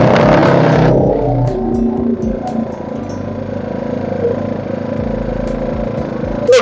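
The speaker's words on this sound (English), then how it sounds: "this is the sound of the generator." A petrol power generator runs close by with a steady low engine drone and rattling clatter, a brief higher whine fading out in the first second, no talking.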